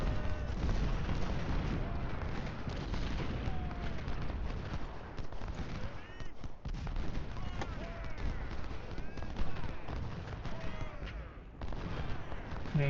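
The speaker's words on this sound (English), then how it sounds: "I feel like I've just been pounding them relentlessly with the artillery" Civil War artillery fire in a strategy game, Ultimate General Civil War, heard as repeated booming shots scattered through a busy, moderately quiet battle soundscape with some voices mixed in.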